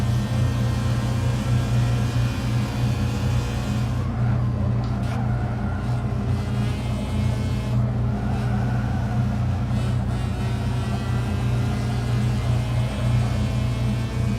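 Car engine droning steadily while driving in the racing game Forza 7, a continuous rumbling whir with slight rises in pitch, faint and even throughout.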